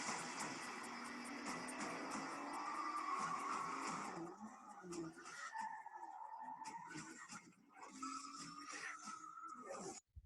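Fast and Furious movie trailer audio mixed in 5.1 surround: a dense roar of revving cars and squealing, skidding tires that thins into separate engine whines and bursts of effects, fairly quiet overall and cut off abruptly at the end.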